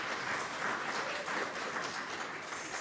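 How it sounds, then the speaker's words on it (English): Sustained applause from a town hall audience for a panel, a steady wash of clapping that stays even throughout. "let's give our panelists a round of applause"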